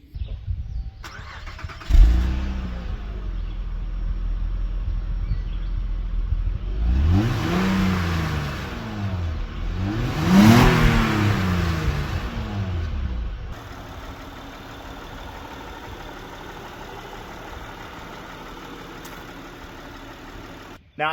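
A Honda Pilot's 3.5 liter engine cranks and catches, revs up twice in quick swells, then settles into a steady, even idle, heard close and fairly loud with no voices.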